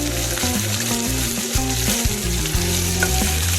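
Green chillies sautéing in a pan with other vegetables, giving a loud, continuous sizzle close by, with low tones running underneath throughout.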